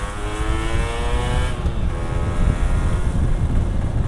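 A two-stroke motorcycle engine with a racing exhaust on a stock engine revs steadily and loudly close by, a raspy buzz with rising and falling pitch throughout, with no voices.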